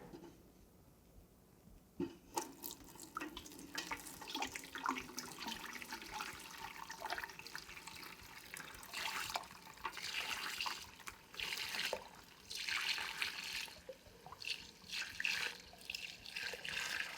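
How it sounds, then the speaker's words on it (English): Madder root dye liquid is poured through an acrylic curtain-fabric strainer, starting after a quiet moment with a splash and then running as a continuous trickling, splattering stream with irregular surges. "I'm gonna pour"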